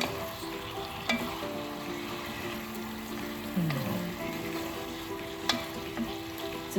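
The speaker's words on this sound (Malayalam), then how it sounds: "ഇടയ്ക്ക് ഈ ചിക്കനും കൂടി ഒന്ന് ഇളക്കി കൊടുക്കാം കേട്ടോ" Chicken frying in a pan for a simple chicken curry, a quiet continuous sizzle with occasional utensil clinks and a brief scraping stir, with no talking.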